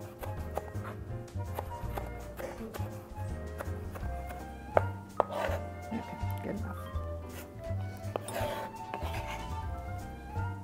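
A knife chops green onion finely on a cutting board in quick, steady taps, heard close under a person talking.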